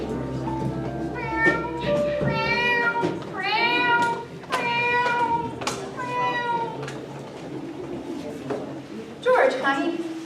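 A cat meows repeatedly in a radio advert for dog food made for cats, several drawn-out, rising-and-falling meows in sequence over a low background, with a final short meow near the end.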